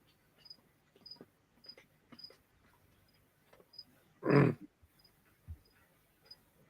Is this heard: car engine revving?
no